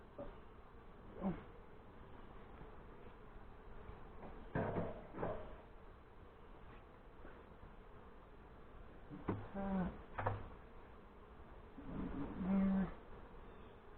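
Honey bees buzzing around an open nuc box during a hive install outdoors in northern Michigan, a steady low drone with scattered louder passes close by, and brief voices and knocks now and then.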